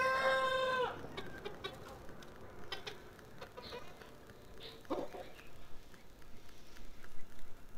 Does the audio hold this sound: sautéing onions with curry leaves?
no